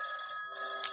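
A telephone rings with an incoming caller on a live call-in show, a steady electronic ring tone heard alone at moderate loudness.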